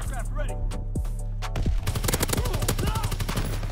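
A few separate shots open, then a rapid automatic burst of gunfire erupts from a weapon in a first-person shooter game, loud and close, with the repeated cracks continuing to the end under brief talk.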